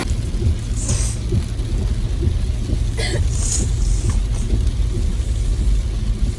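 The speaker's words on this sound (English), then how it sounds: "Because the rain was too strong." Heavy rain pours down steadily during a thunderstorm, with a dense hiss that persists throughout and brief rumbles of thunder breaking through, heard from close by and loud.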